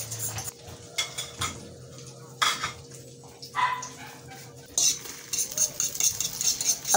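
Scrambled egg stirred and broken up in a wok with oil, sharp metal spatula scrapes and clinks in irregular bursts over a low sizzle.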